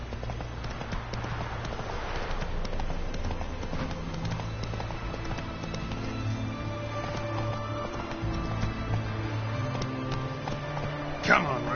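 Roach the horse gallops in The Witcher 3, a steady rhythmic clip-clop of hooves running on and on, close and loud, with game sounds and a brief voice over it.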